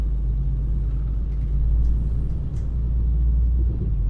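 Low, steady engine rumble of a bus in Euro Truck Simulator 2, started off in fifth gear, droning continuously throughout with slight swells and no talk over it.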